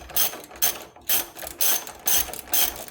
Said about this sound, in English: all we do, we just take our 15 and we just keep tightening